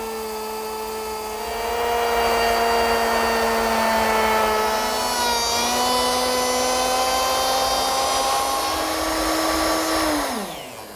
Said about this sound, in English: I just guide the router against the clamp.